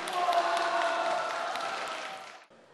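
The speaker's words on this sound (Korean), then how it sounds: "큰 박수 부탁드릴게요" Audience at a school science quiz show applauding, a broad wash of clapping and faint cheering that fades out near the end.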